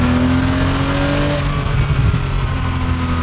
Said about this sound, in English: Oh, the exhaust note is glorious. That flat 6 makes such a lovely noise.